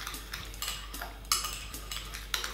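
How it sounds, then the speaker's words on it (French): A spoon stirs yeast, sugar and lukewarm water in a bowl, giving rapid light metallic clinks and scrapes against the side, close and steady with no talking. "on va diluer tout ça pour activer les levures"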